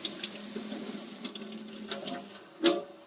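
Warm water runs from a tap while hands are wet under it: a soft, steady splashing stream, faint and close, with a brief louder splash near the end.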